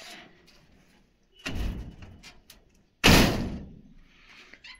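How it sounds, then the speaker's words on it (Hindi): A door is shut twice at a rural home on a drizzly day, each closing a loud, close thud or slam separated by quiet moments, with faint background sound in between. "जल्दी से ये दरवाजा करते हैं बंद"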